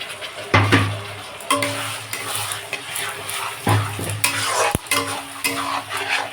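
Spice paste stirred and fried with mutton in a pan for a slow winter curry with country garlic and chui jhal, a steady close sizzle broken by scraping spoon strokes against the metal.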